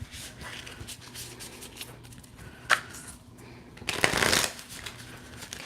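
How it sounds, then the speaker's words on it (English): A brand new Dust to Onyx tarot deck is riffled and shuffled by hand at close range, with soft card flutters and sharper riffle bursts. Quiet background murmur runs underneath, but no clear voice is heard. "We're giving it a good shuffle because it's a brand new deck."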